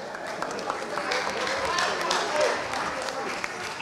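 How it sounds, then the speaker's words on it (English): An audience at a comedy show claps for a comedian in a sustained, fairly quiet round of applause, with crowd murmur mixed in and no clear speech on top. "round of applause for him"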